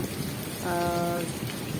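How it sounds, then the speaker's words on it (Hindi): Heavy early-morning rain falling steadily, a dense continuous hiss of drops on surfaces, fairly faint and distant, with a brief tonal hum in the middle. "अभी तक बारिश हो रही है"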